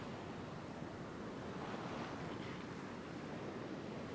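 Big, turbulent ocean waves break along a beach in a steady, fairly faint wash of rushing surf, mixed with wind noise on the microphone and no clear individual wave strikes.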